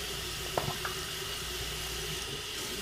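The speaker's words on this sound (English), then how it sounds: "Put a little bit of water in there." Water splashes and trickles into a bowl of Proraso menthol eucalyptus shaving soap, a faint running pour over steady background hiss with a few small splashes early on.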